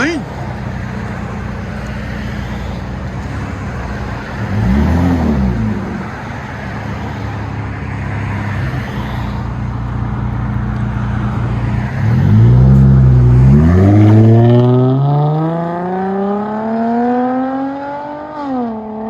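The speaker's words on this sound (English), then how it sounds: "Dodge Charger 2015 V6. DYNOMAX 24215s long, 18 inch, and rear delete 5-inch tails." A 2015 Dodge Charger 3.6L V6 with Dynomax Bullet mufflers, 18-inch, and a rear delete with 5-inch tails idles under talk, blips once, then revs in a long rising climb that drops back.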